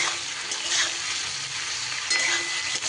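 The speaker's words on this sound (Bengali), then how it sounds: "বেগুনটা দিয়ে আবার একটু নাড়াচাড়া করে নেব।" Eggplant pieces frying in a pan with winter vegetables and tomato for a chapila fish curry, a steady close hiss of sizzling oil with scraping stirs throughout, no talk.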